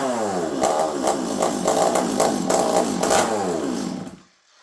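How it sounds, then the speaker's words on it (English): A chainsaw with no muffler blares close and raw, a rough, crackling two-stroke roar with rhythmic rises and falls in revs for about four seconds before cutting out abruptly. "There's no muffler on this saw front."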